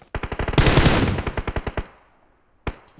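Gunfire from PUBG Mobile played on an iPhone 11: rapid bursts of loud automatic weapon shots, a dense volley in the middle, then a pause and one more sharp shot near the end.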